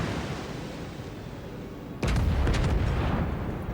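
Heavy cruiser Kronshtadt in World of Warships Legends unleashes a sudden loud volley of booming gunfire midway, after a low rumbling battle ambience, with the blasts ringing out and fading over the next second or so.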